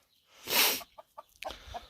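Farm chickens cluck close by: a loud squawk followed by several short, quick clucks in an irregular run, with no talk over them.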